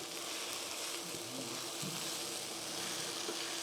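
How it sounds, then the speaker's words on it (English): Plant-based fried rice sizzles steadily in a pan, a soft continuous frying hiss with faint stirring scrapes, fairly quiet and without talking. "This pan doesn't do as well with the frying to get that crisp."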